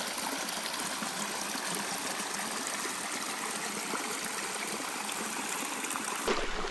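River water flowing through a snowy California landscape near natural hot springs, a steady close rushing and trickling stream that continues evenly throughout, with a brief shift near the end.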